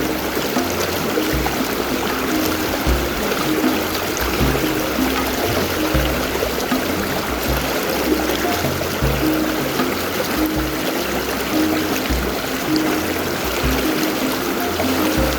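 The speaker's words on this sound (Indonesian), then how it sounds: "Air lebih dangkal dengan arus yang cukup deras." Shallow, fast-flowing river water rushes continuously, a dense, loud, even gurgling roar heard close with no pauses or voices.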